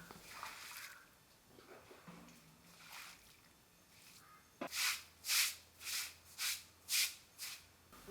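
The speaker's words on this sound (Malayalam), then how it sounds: "ഇനി നമുക്ക് വെള്ളം ഒഴിച്ച് ഒന്ന് വൃത്തിയാക്കി എടുക്കാം" Water poured over a freshly scrubbed, moss-stained cement floor, heard as quiet trickling and then a run of rhythmic, fairly close splashing bursts, evenly spaced and growing steadily louder.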